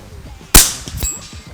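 A single sharp metallic clang rings out as an FX Crown air rifle pellet strikes a steel target at long range, followed by a brief fading ring and a fainter second ping.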